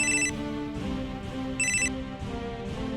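A telephone rings in two short bright bursts with a gap between them, over a low background hum.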